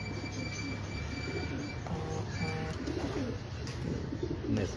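Pigeon cooing in a loft, soft repeated coos mixed into steady background noise, including a louder low burst near the end.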